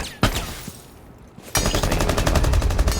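In a competitive Rainbow Six Siege match, a single loud shot cracks, then after a short lull a Mute operator's shotgun and other weapons open up in rapid, loud repeated blasts that continue to the end.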